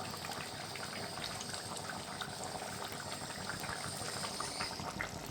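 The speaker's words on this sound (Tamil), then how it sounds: "நல்லா குழம்பு சுண்டி வந்துட்டுருக்குது. நல்லா கொதிச்சிருச்சு பாருங்கள்." A pot of prawn curry with vegetables boils steadily, a continuous soft bubbling and gurgling throughout with no talk.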